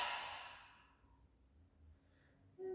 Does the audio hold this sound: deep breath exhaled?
yes